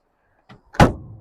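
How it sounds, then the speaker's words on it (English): Door of a Mercedes 240D W123 shutting, a brief faint latch click followed by one loud, solid thud that fades quickly, with no talk. "One of my favorite things about these old Mercedes is how the door closes. It's just so solid."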